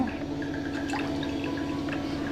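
Water poured onto sugar in a pan before boiling for almond payasam, a soft continuous trickle with faint drips over a steady low hum, close and quiet.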